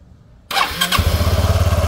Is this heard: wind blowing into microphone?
no